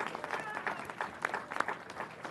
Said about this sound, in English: If we could just give them all one big round of applause